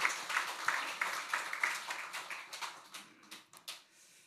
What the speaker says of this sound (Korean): 우리 경례 박수하겠습니다.